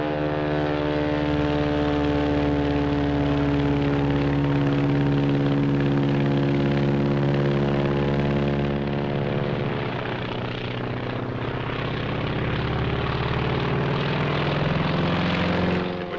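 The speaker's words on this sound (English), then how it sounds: "that plane? Climbing to heaven like a skyrocket?" A Japanese Zero fighter plane climbs with a steady, loud propeller-engine drone rich in harmonics, its pitch shifting slightly partway through and continuing for the whole stretch.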